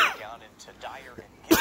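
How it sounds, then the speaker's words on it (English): A man lets out a cough and throat-clearing during an outdoor weather update, a couple of short rough bursts with a sharper final one, between pauses. "I just had a cough there for a second."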